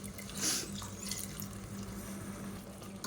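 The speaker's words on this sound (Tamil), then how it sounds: "இப்போ மிக்சியை அலசிட்டு கொஞ்சமாக தண்ணி சேர்த்துக்கலாம்." Water running into a mixer grinder jar while it is rinsed for a Tamil oil-brinjal kuzhambu curry, a brief louder splash early on, then a steady trickle with a low hum beneath.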